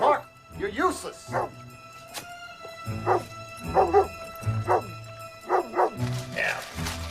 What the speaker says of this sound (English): His dog's been barking all night long.